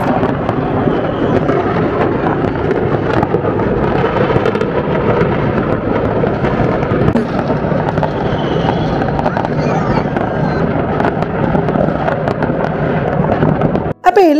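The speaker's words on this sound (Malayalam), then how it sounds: "ഞങ്ങൾക്ക് അവിടെ മെയിൻ സ്ക്വയറിൽ വെച്ച് പടക്കം പൊട്ടി ഈ ഫയർ ക്രാക്കർ." New Year fireworks and firecrackers going off at a main square in Poland, a loud, unbroken wall of crackling bursts and rumbling booms with crowd voices mixed into the din.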